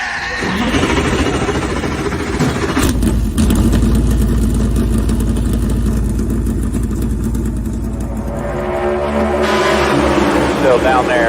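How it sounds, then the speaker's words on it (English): Several race car engines start and rumble together at an oval race in Phoenix, a loud, steady low roar with rising revs filling the whole stretch, and voices and crowd noise mixing in. "gentlemen, start your engine!"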